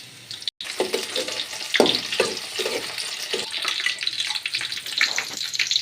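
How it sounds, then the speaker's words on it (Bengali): Onions dropped into hot oil for vegetable polao fry with a broad, hissing sizzle, close and fairly loud, with a few sharper spits early on. "তেলটা গরম হওয়ার পর আমরা পেঁয়াজটা দিয়ে দিয়েছি।"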